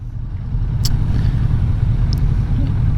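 A 2020 Kawasaki Vulcan S motorcycle engine builds from a low idle into a deep, steady rumble as it accelerates, loud and close with wind noise over it.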